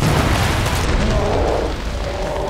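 A heavy, sustained C4 explosion rumble in Killing Floor 2, broadband roar filling the whole clip, loud and dense.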